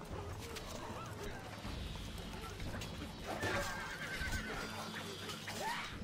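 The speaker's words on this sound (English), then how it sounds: "Our horses are ready." Horses whinny and neigh in the Stronghold HD strategy game, several calls rising over a steady low game background, with a clatter of hooves and some faint in-game voices mixed in.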